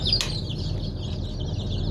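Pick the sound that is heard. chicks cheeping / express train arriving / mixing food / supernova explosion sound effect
chicks cheeping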